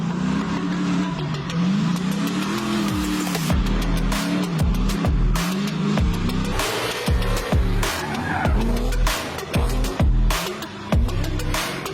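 Cars drifting through the mountains, engines revving hard in repeated rising and falling surges with tire squeal and skidding, loud and continuous throughout with no talking.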